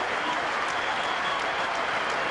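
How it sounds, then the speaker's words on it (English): A cricket crowd in Sharjah gives a standing ovation, a dense continuous wash of applause and cheering heard from a distance and holding steady throughout. "Getting a standing ovation from the crowd here in Sharjah."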